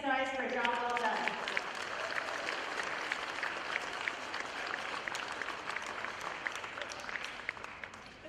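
Applause from a crowd at a middle school sixth-grade award ceremony, steady clapping filling the room for several seconds after a brief voice at the start.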